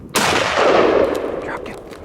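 A single close, loud rifle shot fired at a spring bear on a hunt, a sharp crack followed by a long rolling echo that fades over about two seconds, with faint voices afterward.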